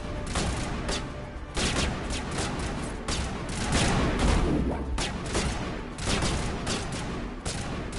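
Repeated gunfire in Mass Effect, a string of sharp shots at irregular intervals amid a busy combat background, moderately loud with no talking.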